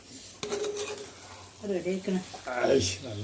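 Nutmeg pickle mixture is stirred in a pan: a sharp metallic knock, then soft scraping and a faint sizzle run beneath a person talking.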